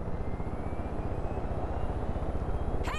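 Helicopter in the video game Far Cry 5, a steady loud rotor chop with pulsing low thumps throughout, joined by a brief sharp sound near the end.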